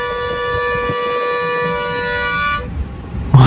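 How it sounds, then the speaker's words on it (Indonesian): A bus horn in India blares in a long, loud, steady chord at close range, then cuts off abruptly. "Klakson."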